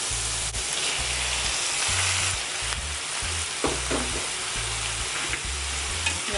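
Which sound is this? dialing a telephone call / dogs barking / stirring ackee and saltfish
stirring ackee and saltfish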